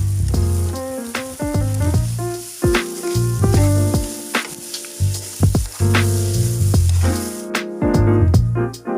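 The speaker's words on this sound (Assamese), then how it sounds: "চেনিখিনি ভাজি লৈছোঁ" Sugar and semolina fry together in a pan for suji halwa, a steady sizzle with occasional stirring scrapes running beneath louder background music.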